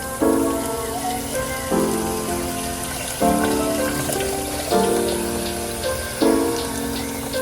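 Beans being washed under running water: a steady stream of water pours and splashes continuously with a dense, rain-like patter, loud and close, with no talking.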